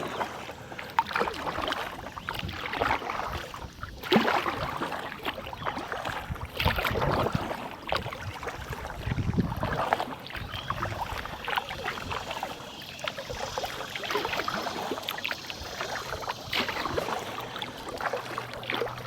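A kayak paddles on a river, the Deep and Cape Fear Rivers in North Carolina, with soft splashing paddle strokes and water sloshing under steady wind buffeting the microphone, going on without a break.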